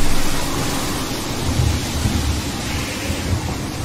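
Rain falls in a dense steady wash with low rolling thunder rumbling beneath it, a loud stormy scene on a boat in a music video, with no talking.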